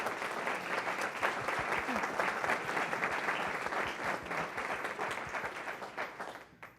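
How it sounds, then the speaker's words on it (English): A crowd at a First Friday gathering claps warmly, steady rhythmic applause that holds strong and then fades out at the end, with faint voices under it. "Let's give them a round of applause"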